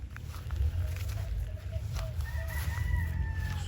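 Five-month-old Sweater gamefowl roosters at a game farm, several short clucks and a drawn-out crowing call over a loud low background rumble, with no speech.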